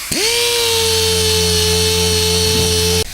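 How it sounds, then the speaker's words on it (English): A power sander with 1500 grit sanding paint, starting up and then running at a steady, loud, high-pitched whine for about three seconds before stopping. "Then I'll follow up with 1500 on a toll cut sander to minimize how big the pattern is of the actual sand scratch."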